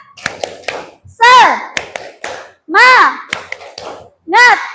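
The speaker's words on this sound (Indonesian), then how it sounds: "Oke, tepuk semangat." A primary school class does a rhythmic spirit clap, sharp hand claps in short patterned groups alternating with children's voices chanting between the claps, close and loud.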